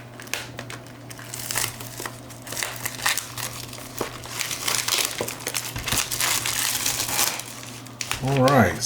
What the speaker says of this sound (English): I'm just going to give it a nice little cut there so I can get into it.